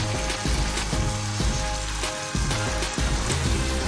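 Food frying in homemade desi ghee for red bean curry, a steady loud sizzle with some scraping and clattering of a spoon against the pan.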